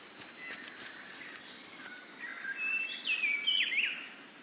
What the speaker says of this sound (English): many species of birds feast on the energy-giving fruits